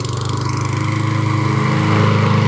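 A Cub Cadet SCP100 walk-behind lawn mower engine runs close and loud, with a steady pulsing drone that builds slightly in intensity near the end.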